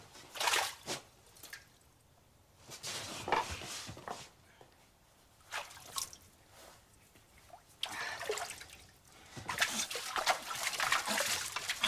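Water splashing and dripping as someone rinses their face, in irregular bursts of wet splashes and trickles separated by brief quiet gaps, close and moderately loud.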